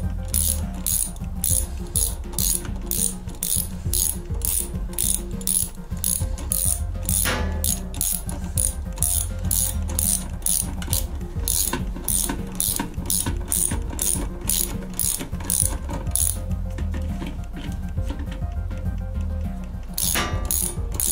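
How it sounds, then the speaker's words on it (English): A ratchet tightens a bolt on a top load washer during a not-spinning repair, giving rapid, steady pawl clicks close up, with brief pauses in the run. "Now I'm gonna screw this back in. I mean screw a bolt."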